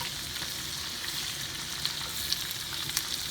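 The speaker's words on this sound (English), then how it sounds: "I will not be draining this oil or butter out of this skillet. I will not. I am going to saute my onions" Onions and mushrooms sauté in butter and steak drippings in a skillet, a constant dense sizzle and crackle with a few sharper pops, close and moderately quiet, no one speaking.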